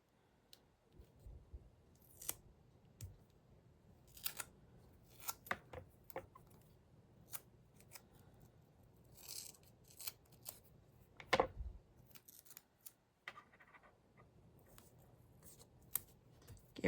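Scissors snip through very thin card pieces in a quiet crafting session, with irregular close crisp cuts and rustling handling sounds between them, no talking.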